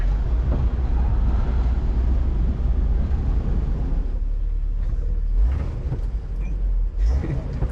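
A Jeep Wrangler engine with a check engine light on runs rough, a heavy low rumble with uneven surging that thins out partway through, heard from inside with no talking.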